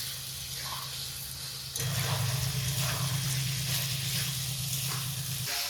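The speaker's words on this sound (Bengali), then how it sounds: "মশলাটা কষিয়ে ভেজে রাখা আলু ফুলকপি দেবো।" Fried potatoes and cauliflower drop into a spice masala in a hot pan and set off a loud, steady sizzle that jumps up sharply partway through and keeps crackling.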